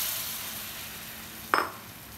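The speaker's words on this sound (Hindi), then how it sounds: "अब हम सॉस डाल देंगे।" Sauce is poured into a pan of cucumber frying for a Korean side dish. A steady hiss of frying runs throughout, then a sudden louder sizzle bursts up near the end as the liquid hits the hot pan.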